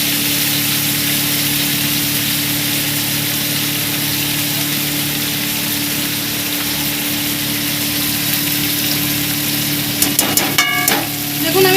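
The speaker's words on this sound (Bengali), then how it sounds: "দিয়ে হালকা করে নেড়ে নেবো আমি চিংড়ি মাছটাকে" Shrimp rubbed with gondhoraj lemon sizzles steadily in a hot pan while being stirred, a continuous close frying hiss with a few sharper clinks of the utensil near the end.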